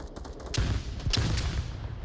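Gunfire in the VR shooter Onward during a competitive match, with a couple of sharp shots ringing out amid a busy, rumbling battle background.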